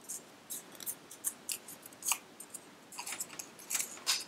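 Paper being folded and creased in a grade 3-4 lesson on lines of symmetry, a run of crisp, near rustling crackles and scrapes in short bursts, with no talk.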